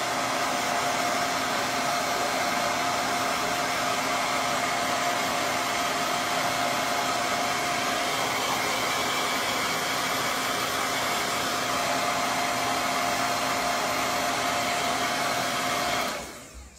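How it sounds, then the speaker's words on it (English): A hair dryer blows in a steady, loud, continuous whoosh with a constant motor whine, running without pause until it cuts off at the very end. "So just dried it with my hairdryer."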